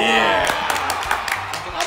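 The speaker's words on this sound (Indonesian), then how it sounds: "Tepuk tangan dong." A studio audience at an Indonesian talk show claps and cheers in a short burst under loud, busy sound, with voices mixed into the noise.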